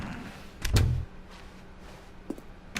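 A door opens in The Stanley Parable: one short, close thud with a soft scrape, then quiet room tone.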